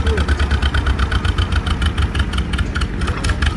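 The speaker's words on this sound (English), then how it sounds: "So kind of a little special John Deere down there. John Deere M." A John Deere M antique tractor engine runs at a tractor pull, a loud close steady rumble with a fast regular putter throughout, with no clear talk over it.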